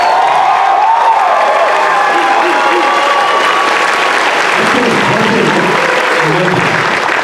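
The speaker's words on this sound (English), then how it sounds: "I want to hear the loudest applause for the whole weekend right now." Loud audience applause with cheering fills a Batman: The Animated Series fan convention panel, sustained throughout, with voices and whoops mixed into the crowd noise.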